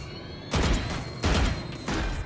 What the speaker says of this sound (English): They shot her.